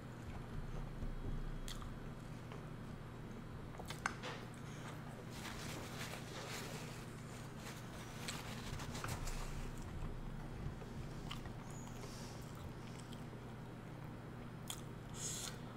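Chewing on shrimp and potato from a seafood boil, with soft wet bites and mouth clicks scattered over a steady low hum, close and fairly quiet.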